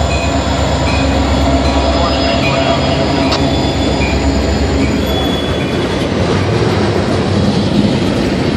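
Norfolk Southern freight train K99, led by an SD40-2 locomotive, rolls past close by in Charlottesville, Virginia, with a loud steady rumble, squealing wheels and clattering cars throughout.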